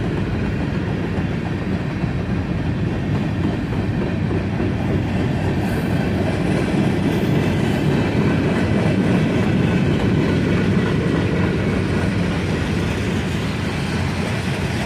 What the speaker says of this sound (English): I originally assumed, with two GP38s leading, that this would be a short local train